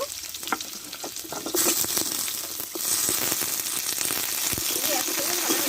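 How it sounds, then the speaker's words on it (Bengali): Malabar spinach sizzles loudly as it is tipped into vegetables frying in a pan, a steady close hiss with stirring scrapes that intensifies partway through and stays dense to the end. "এবার এই সবজির মধ্যে আমি পুঁই শাকটাকে ঢেলে দেবো।"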